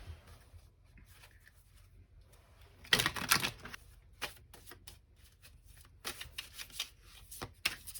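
Fenestra tarot card deck being shuffled, with soft intermittent riffling bursts, a louder flurry early on, then several quick crisp shuffles close by against a quiet background.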